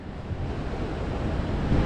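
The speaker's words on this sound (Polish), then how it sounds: "Przepiękne fale." Ocean waves on the Reykjanes coast of Iceland, a steady loud rushing surf mixed with heavy wind buffeting the microphone, continuous throughout with no voices.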